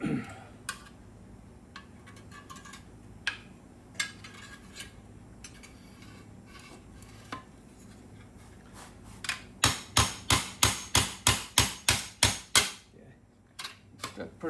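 A hammer pecks a dent out from the back side of a rusty 1938 car body panel: scattered sharp metallic taps, then a rapid, evenly spaced run of about a dozen loud strikes.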